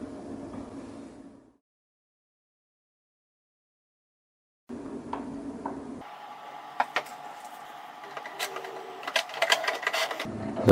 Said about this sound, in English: The printer is powered on.